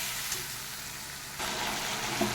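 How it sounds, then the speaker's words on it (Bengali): Spice masala for a potato curry frying in a pan with a little sugar, a steady close sizzle with a louder stretch midway and a few faint scrapes of stirring. "এবার বেশ সুন্দর করে মশলাটাকে কষাতে হবে।"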